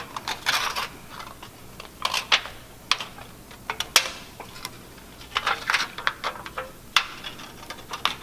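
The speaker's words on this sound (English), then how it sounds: "I'll go ahead and take my scissors and just trace along that line." Sharp, quiet snipping clicks come in irregular bursts, like scissors cutting through stiff material up close.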